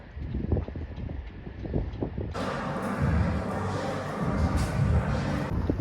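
Icy wind blowing outdoors at minus three degrees in Ukhta, Komi Republic, a steady rushing roar that buffets the microphone. Partway through it swells into a louder, broader gust and stays there.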